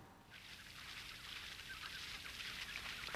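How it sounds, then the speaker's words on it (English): A family of Canada geese honks and calls in a steady, fairly faint chorus over a bath setting, the noisy honking continuing throughout without speech. "This is artist and inventor Bill Lishman taking a bath with his new family of Canada geese."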